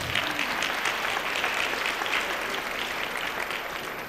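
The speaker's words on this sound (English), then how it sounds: "Yeah, clap on that." A crowd at a school college kickoff event applauds loudly and continuously, a dense wash of clapping throughout with no speech over it.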